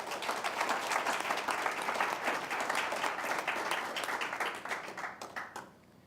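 A room of attendees at a National Federation of the Blind gathering applauds, dense, close clapping that holds strong for several seconds before thinning to a few scattered claps and fading out.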